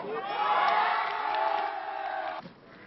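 Crowd cheering and whooping for Guy Aubineau's election victory in Vitrolles, a loud sustained roar of many voices with shouts rising over it, then cutting off abruptly near the end.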